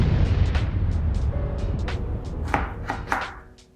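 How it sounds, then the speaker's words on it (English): A knife slicing half a lime into small wedges on a cutting board for a raspberry gin mojito: a series of crisp chopping taps, several quick strikes in an irregular rhythm, close up over a low background hum. "you're gonna grab the other half of that lime and you're gonna cut a few small wedges into it"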